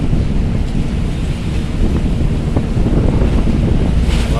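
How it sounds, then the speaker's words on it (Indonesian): Sea swell and strong wind at Bakauheni harbour at night, a loud steady roar of gusts buffeting the microphone over surging waves, continuous with no voices. "ini alunnya lumayan di Bakauheni"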